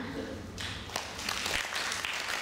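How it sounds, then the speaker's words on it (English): Clapping from an audience at a spiritual discourse on the story of Keechaka, a short burst of hand claps mixed with room noise and some voices. "Clap."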